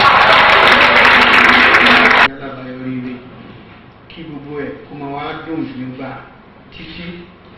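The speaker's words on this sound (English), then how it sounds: "A round of applause for them." Audience applause at a public event honouring a Kwara boys' team after a match, a loud dense burst of clapping for about two seconds that stops abruptly as speech begins.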